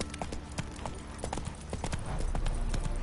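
Hooves of Roach, a horse in The Witcher 3, clatter in a fast galloping rhythm, close and steady, over a low rumble of movement.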